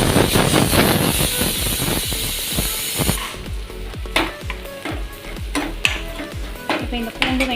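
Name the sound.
garlic and onion frying and being stirred in a pan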